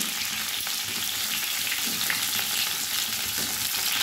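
Potato, papaya and sweet potato chunks sizzle steadily in hot oil as they are stirred, a constant close crackle and hiss with occasional scraping touches throughout.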